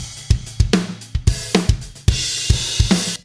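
Rough drum recording with only overhead, snare and one kick track, no room mic: loud, punchy kick and snare hits in a quick groove with cymbal wash ringing over them, alone without any talk.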